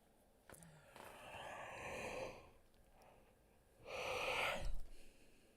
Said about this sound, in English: I just steamed my glasses up with a yawn